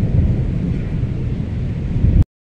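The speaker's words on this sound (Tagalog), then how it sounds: "Pero yung ating kulog ay nandyan pa rin siya." Thunder rumbling after a heavy downpour at a home balcony, a loud continuous low roar with rain-soaked ambience that swells slightly near the end, then cuts off abruptly.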